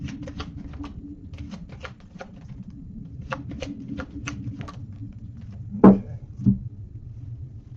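Tarot cards are shuffled and riffled in soft, quick bursts of flicking and patter over a low room rumble, followed near the end by a couple of louder taps as cards are set down.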